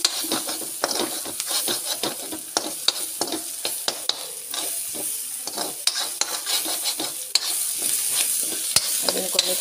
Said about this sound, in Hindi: प्याज क्योंकि बहुत ज्यादा नहीं भूनने हैं, ये हल्के हल्के से फ्राई करने हैं।